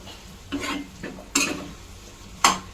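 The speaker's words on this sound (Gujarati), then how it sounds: "હું આવી રીતના બધું મિક્સ કરતી જાય અને ધીરે ધીરે હલાવતી જાય" Eggplant bharta mixture stirred in a pan: several close spoon scrapes and strokes at an unhurried pace over a soft sizzle, with no speech.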